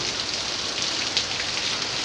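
Heavy monsoon rain pours down steadily in strong wind, a dense, even roar of drops hitting surfaces, loud and continuous with a brief gust swell partway through.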